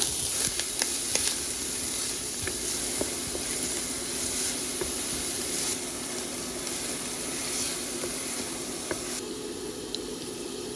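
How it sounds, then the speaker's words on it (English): Chopped onion sizzles in hot oil in a pot while a Goan clam curry is being made, giving a steady, even hiss that runs without a break, with a few faint clinks. "Once the pot is hot enough, add some oil and then 1 medium-sized chopped onion."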